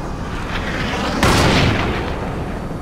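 Sniper fire in the video game Crysis, a single sharp loud boom that rolls into a long rumbling tail over a steady background hum.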